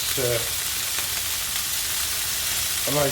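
Pieces of meat browning in a hot frying pan, a continuous loud close sizzle throughout, with a couple of short voiced sounds over it.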